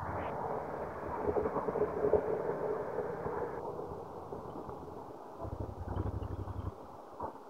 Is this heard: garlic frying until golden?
no